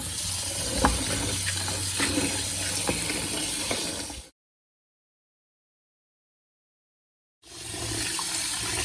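Wheat for hedik being washed in water, with a steady rushing, splashing wash broken by a silent gap partway through, then resuming, no voices.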